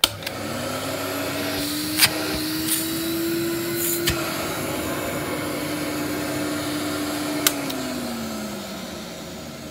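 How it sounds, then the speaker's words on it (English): A vintage 1965 Electrolux ZA65 vacuum cleaner runs with a steady motor hum, rising in pitch as it spins up and dropping as it winds down near the end. A few light knocks sound over the drone. "It sounds amazing."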